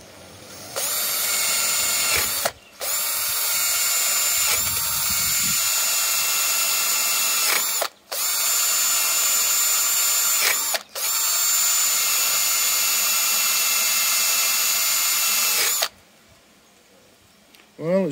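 A power drill spins a brush attachment during a coolant leak repair on a Mazda MX-5, whining loudly and close in long, steady runs broken by brief stops, then fading to quieter handling at the end.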